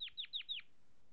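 A male canary sings a quick phrase of four identical descending chirps in an even rhythm, clear and fairly close, followed by quiet.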